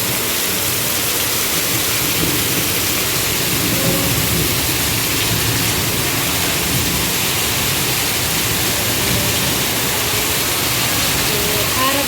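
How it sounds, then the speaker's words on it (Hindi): Heavy rain pours steadily throughout, a dense continuous hiss, with low rumbling thunder underneath. "और बादल भी गरज रहे हैं,"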